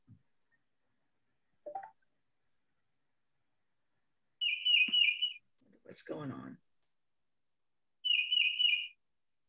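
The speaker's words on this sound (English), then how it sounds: "I think they may be hearing my birds here in Kentucky." Pet birds in Kentucky give two bursts of rapid, high trilling chirps, fairly faint and distant, separated by silence, with a short stretch of talk between them.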